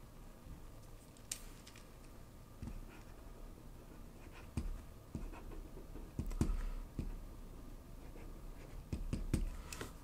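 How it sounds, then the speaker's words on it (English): A stylus scratching across the filmed screen of a 10-inch Viwoods AiPaper e-ink tablet, a steady run of faint close scrapes broken by sharp taps and clicks. "Let's go ahead and see what the writing experience is like."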